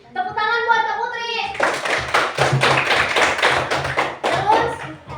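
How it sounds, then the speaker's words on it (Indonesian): A class of fifth-grade pupils claps together in a lively burst of applause lasting several seconds, following a short spoken phrase at the start. "Tepuk tangan buat Kak Putri."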